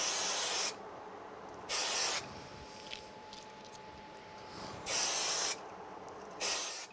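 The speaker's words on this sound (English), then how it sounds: "I'm going to use a little bit of spray glue on these." An aerosol can of spray glue hisses in two short bursts and then two more over craft snowflakes decorated with little pearls, each blast loud and close against a quiet room.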